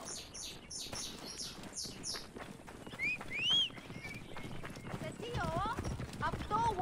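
Horse hooves clip-clop steadily in Assassin's Creed Origins, with birds chirping around them and someone talking over the ride throughout.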